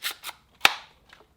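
A Ryobi brad nailer loaded with 1.5 inch brad nails, freshly lubricated with WD-40, fires in sharp, loud snapping shots close by: two quick pops, then a brief pause and one louder crack, each with a short decaying tail.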